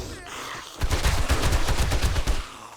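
Gunfire in the survival video game 7 Days to Die, a rapid burst of loud close shots fired in quick succession for about a second and a half.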